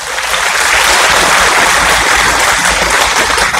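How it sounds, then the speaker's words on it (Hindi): An audience at a Rajyoga meditation camp claps loudly and steadily, a dense, even wash of applause throughout with no talk. "अपने लिए जोरदार ताली बजाओ।"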